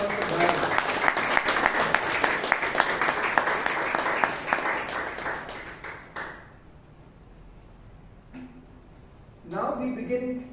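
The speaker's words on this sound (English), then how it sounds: "So big round of applause to Toastmaster Bryan" A room of people at a Toastmasters meeting in Bangalore claps for a member, dense applause lasting about six seconds before tapering off, followed by a quiet pause and then a voice speaking.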